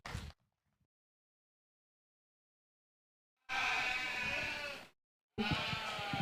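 White Dorper ewes bleat at a sheep show, with a brief cry at the start and then two longer, loud, wavering bleats close by, separated by near silence.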